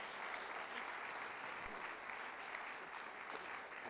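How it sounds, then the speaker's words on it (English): Audience applause at a National Review evening event in San Francisco, a steady, dense wash of clapping throughout at moderate distance, with no talk over it. "how about a round of applause for National Review and Chuck Duvall, the whole team."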